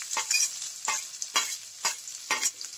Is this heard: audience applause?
no